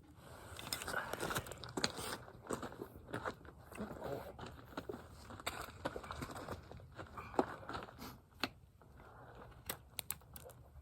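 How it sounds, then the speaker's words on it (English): A hoof knife makes sharp, irregular scraping strokes as it trims a colt's hoof, with quiet short clicks and cuts scattered through the clip and faint handling noise between them. "those knife strokes were really bad, and that was more than 4 or 5"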